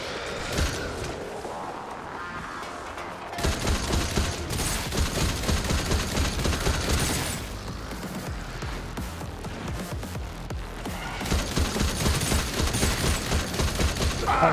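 Sustained heavy gunfire in a video game, dense volleys that surge and ease in several long stretches, loud and close with little else above it.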